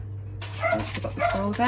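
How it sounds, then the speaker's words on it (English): Dogs bark and yip in the background behind someone talking during an unboxing of a witch-themed subscription box, with the barks coming in short bursts under her speech. "Sorry for the dogs barking in the background."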